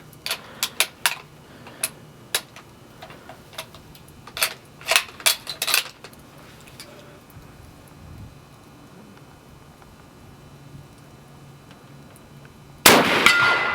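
Bullets from a Lee Enfield No. 4 Mk2 rifle strike a steel target at a range, giving sharp metallic clangs in irregular bursts, some in quick succession, followed by a quiet stretch and a sudden loud noise at the end.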